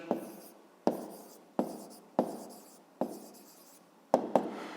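Close pen strokes on paper or a board as an answer is written out in a grade 5 math exercise, with rhythmic scratching broken by about seven distinct taps as each new item starts, no voices.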